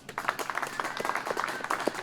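A small, sparse round of audience clapping greets disc golfer Catrina Allen at the 2021 Utah Open final round, fairly faint and patchy, with light murmur underneath.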